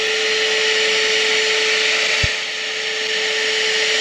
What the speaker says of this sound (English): she's grinding down with the grinder, and we put a sandpaper bit on it for the time being.